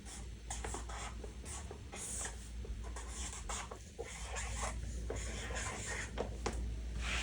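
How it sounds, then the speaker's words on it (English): A pen or pencil scratching across paper as multiples of 12 are written out for a division problem, a steady soft scraping with small pauses, close by against a constant background hiss. "So I'm going to write out my multiples of 12."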